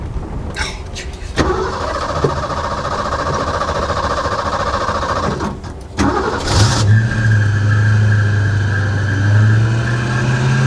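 A 1964 Mercury Cyclone with a 289 V8 cranks and fires up, then revs and settles into a loud, rough idle close by. Brief clunks and handling noises come before the start.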